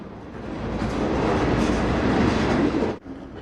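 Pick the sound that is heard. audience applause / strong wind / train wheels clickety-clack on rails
train wheels clickety-clack on rails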